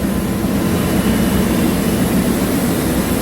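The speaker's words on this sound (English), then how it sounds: "These are screw pumps provided on board for supplying fuel oil" Fuel oil screw pumps in a ship's pump room run with a steady, dense mechanical drone and a low hum. The sound stays constant throughout with no talk.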